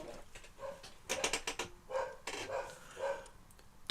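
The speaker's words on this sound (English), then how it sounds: "The fuck are these dogs barking at?" Dogs barking outside in the evening, heard as a handful of short, muffled barks at a moderate distance amid quiet background noise, with no speech.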